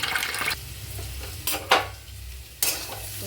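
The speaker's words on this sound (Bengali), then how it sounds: "এবারে চিড়েটাকে আমি ধুয়ে ভালো করে রেখে দিই দেখো চিড়ের মধ্যে অনেক ময়লা থাকে ভালো করে ধুয়ে নিয়ে" Flattened rice (chira) is rinsed in water in a metal bowl, with a wet swishing wash broken by several sharp splashing scrapes, close and loud, with no talk.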